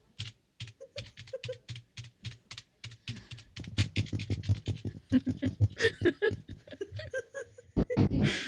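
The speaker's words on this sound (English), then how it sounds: "There's me typing something to someone" Typing on a computer keyboard, a close rhythmic run of key clacks that speeds into dense bursts, with muffled laughter and chuckling mixed in.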